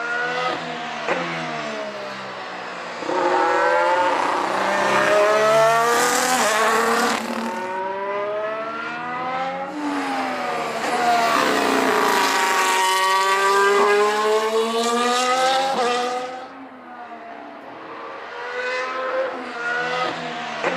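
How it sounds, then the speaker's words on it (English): Formula 1 race cars in an animated Lego United States Grand Prix roar past with loud, high-pitched engine whines that rise and fall through gear changes, several cars in succession, with no talk over them. "Charles Leclerc comes out in 4th place"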